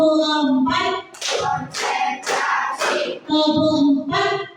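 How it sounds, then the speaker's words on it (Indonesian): Children clap their hands together on a count, a quick run of four or five sharp claps set between stretches of group chanting. "tepuk 1, tepuk 2, tepuk 3, tepuk 4."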